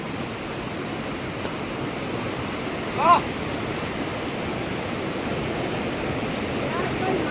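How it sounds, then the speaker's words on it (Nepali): Steady rushing of a river where the Wali and Ghusbang streams meet, a continuous even wash of water close by, with a brief faint sound around the middle. "त्यो दुईवटा खोला मिसिएर तल गइरहेको छ वाली खोला।"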